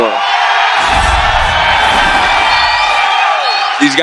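A loud, dense crowd of fight fans roaring and whooping at a UFC 261 press conference, sustained cheering that fills the space from start to end.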